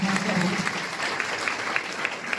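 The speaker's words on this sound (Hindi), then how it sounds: "जोरदार तालियों के साथ मैं चाहूंगा" A crowd at a Makar Sankranti fair and farmers' felicitation event claps at a fairly low level, scattered hand claps under a speaker's amplified voice that continues over them.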